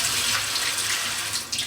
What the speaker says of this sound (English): And then this pours the water